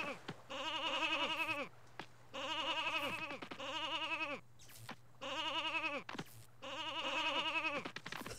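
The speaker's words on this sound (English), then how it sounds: "Oh hey, it's a fellow sheep!" Synthesized sheep bleats from the Nintendo 64 game Space Station: Silicon Valley: four long, wavering electronic baas in steady succession, loud and close, each separated by a short gap, over a faint constant hum.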